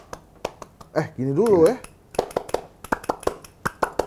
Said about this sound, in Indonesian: ngetes sama tepuk Pramuka